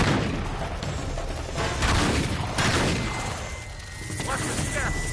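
Continuous gunfire with heavy booms in Uncharted 3: Drake's Deception, dense and loud throughout, with a voice shouting over the shooting.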